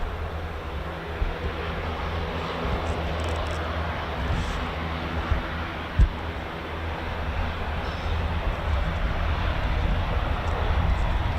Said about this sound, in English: So it looks like we've got a KC-135 that is taxiing